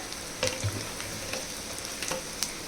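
Ground masala paste fries in a pan for a quick mutton curry, giving a steady, soft sizzle broken by a few sharp crackles and the scrape of stirring.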